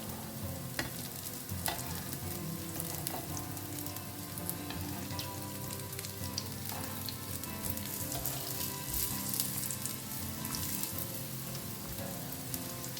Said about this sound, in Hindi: अब दूसरे साइड को भी ना इस तरह से बढ़िया सा ब्राउन कलर आने तक इसे फ्राई करते हैं